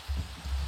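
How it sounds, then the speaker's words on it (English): Rain falls in the video game Minecraft, a brief soft patter over a low rumbling wash, steady and close. "And it's raining, of course."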